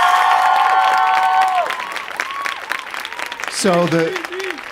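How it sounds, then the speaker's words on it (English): Studio audience applauding a musician after a GarageBand music demo, the clapping running steadily under a prominent tonal voice or music and thinning toward the end. "Please give him another round of applause."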